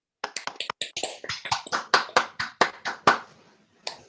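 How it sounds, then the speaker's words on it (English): Small group at a borough council meeting clapping for firefighters, a close, sparse run of individual claps, about a dozen distinct hits that trail off with one late clap. "Round of applause for our firefighters"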